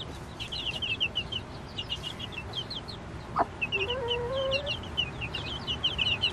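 A mother hen clucks softly and steadily among her chicks, whose high, rapid peeps twitter continuously over a steady low background hum, close by and without speech.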